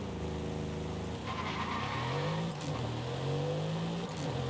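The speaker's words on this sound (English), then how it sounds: "All farts from the exhaust." Mercedes-AMG SL63 in Forza Horizon 5 with a steady engine and exhaust drone, its pitch sweeping up and down through gear changes, with crackling pops and faint tire noise over a continuous loud roar.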